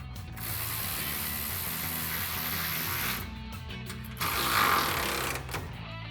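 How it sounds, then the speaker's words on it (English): Ratchet with a 13mm socket tightening the exhaust bracket bolt on a Ford F-150 EcoBoost with an MBRP Armor Lite dual exhaust, a close, steady run of rapid clicking with a short pause and a louder burst near the end. "Grab your ratchet, a 13mm socket, and tighten that down."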